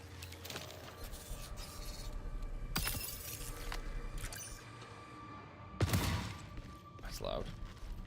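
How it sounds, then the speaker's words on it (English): Glass breaking in the Marathon shooter game gives sharp shattering bursts over a busy in-game backdrop with intermittent gunfire-like cracks and thumps, the loudest crash near the end; a player's voice is faintly present. "Glass is broken up there."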